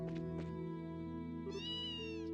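A cat meows twice, short and close, then a longer drawn-out meow, over a steady musical background, in the video game Legend of Heroes: Trails in the Sky SC.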